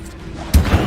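An Incendio fire spell is cast in Hogwarts Legacy, giving a sudden loud burst with a whooshing, booming crash halfway through a short moment of quieter game sound.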